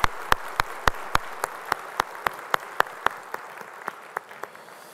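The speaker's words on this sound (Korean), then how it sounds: "우리 찬양 박수 주님께 영광의 박수 올리" Applause at a church service: sharp, distinct hand claps in a steady rhythm, about three per second at first, then slowing and fading toward the end. The claps stand alone over a quiet room.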